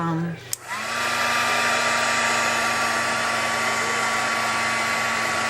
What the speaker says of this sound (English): I do need to dry it with the heat gun